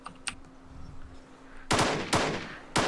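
Gunfire in the video game DayZ: three sharp, loud broadband shots crack out in the second half at irregular spacing, following a quieter stretch with faint background sounds and a steady low hum.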